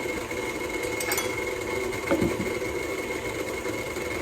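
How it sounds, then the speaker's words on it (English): An electric mixer runs steadily, beating snickerdoodle cookie dough in a Christmas bowl, a constant motor whir lasting throughout with a brief clunk near the middle and no talking. "I'm still keeping an eye on the mixer to see that it's actually doing it for 4 minutes"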